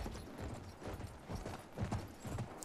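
Horse hooves clip-clop in the World War I shooter Battlefield 1, a steady galloping rhythm of repeated thuds that runs throughout, fairly close, mixed with game ambience.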